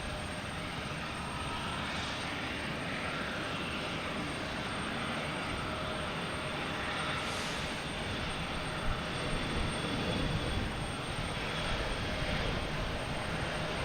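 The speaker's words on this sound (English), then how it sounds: "Now we got Delta E175 heading off to Baltimore." Delta Embraer E175 jet taking off at Boston Logan Airport, a loud, sustained broadband engine roar that holds steady throughout, heard from a spotting position near the runway.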